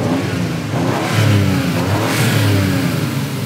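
A Toyota Supra MK4 six-cylinder engine revs up loudly and close, a smooth, sustained mid-pitched roar that swells and holds, with no talking.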